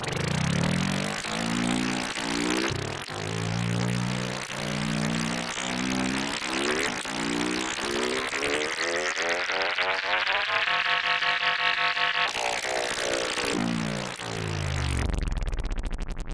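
A synthesizer imitates a small engine for sound design: a buzzing, harmonic motor tone rises and falls in repeated revving swells, steadies into a higher hum, then drops off and spins up again at the end.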